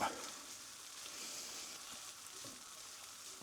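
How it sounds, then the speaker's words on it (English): Spices sizzling in a pan as the base for a masala omelette, a soft, steady frying hiss heard fairly faintly and alone. "Just fry it for 2 minutes, it says, guys, just to get all the flavours released and that."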